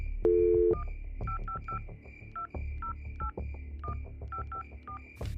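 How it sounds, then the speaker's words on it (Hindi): A telephone being dialed: a short held tone, then a rapid series of about a dozen crisp keypad beeps in an uneven rhythm, close and clear with no talk. "मोरे ने आलोक को फोन लगाया।"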